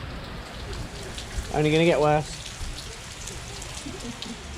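Steady heavy rain from Hurricane Ian pours down on surfaces around an outdoor spot at a Walt Disney World resort, a constant hiss with a person briefly speaking over it.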